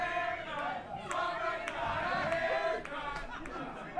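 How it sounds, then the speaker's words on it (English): A wrestling crowd at a Championship Wrestling from Hollywood show shouts and chatters steadily, a dense, fairly loud roar of many voices with a few sharper yells rising above it. "Crowd here in Hollywood mentioning Tito's new hairstyle there."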